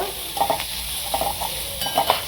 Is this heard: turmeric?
yes